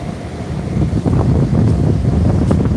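Wind gusts hard across a ship's deck at sea in the Bay of Bengal, with waves washing against the hull. The roar is steady and buffeting, and there is no talking.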